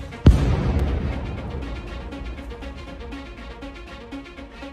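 Artillery shells exploding nearby in the Ukraine war, one sharp, heavy blast near the start followed by a long rumbling decay and faint scattered crackles, with no voices.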